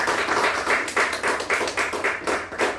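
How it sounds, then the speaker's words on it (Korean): A live audience at a Korean gathering applauds, with dense, steady clapping from many hands swelling in repeated waves over nearly three seconds, fairly loud and close, with no voices over it. "김국빈 변호사를 위해서 박수 한번 쳐주시죠"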